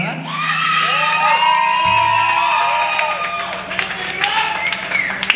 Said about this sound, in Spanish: Un aplauso para Jax, que cumplió años la semana pasada.